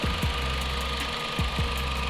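Engine of a 2016 Dodge Journey being serviced for a coolant temperature sensor fault, running close by with a steady idle hum and a couple of brief rev surges, no talking.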